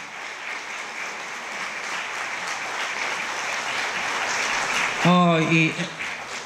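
Applause from an audience at a youth gala in Mielec runs steadily through the clip, a broad even wash of clapping, before a brief spoken voice cuts in near the end.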